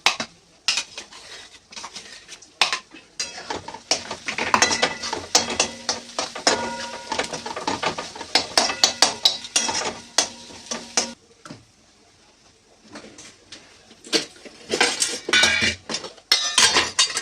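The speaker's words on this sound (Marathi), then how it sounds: "आता वाटण तेलामध्ये पुन्हा परतवून घ्यायचंय चांगलं." Ground paste stir-fries in oil in a pan, a busy run of irregular metallic spatula scrapes and clanks over a low sizzle, pausing briefly before the stirring resumes.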